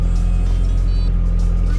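A car engine idles steadily, loud and close, a continuous low hum with no talk over it, after a fix that still left a crankshaft position sensor code to sort out.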